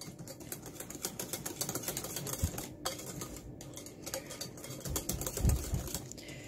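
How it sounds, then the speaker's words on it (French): A whisk beats milk into cocoa cake batter in a bowl, making quick, continuous rhythmic clicking and wet slapping close by, growing a little louder toward the end, with no one speaking. "Je vais mélanger cette fois-ci au fouet."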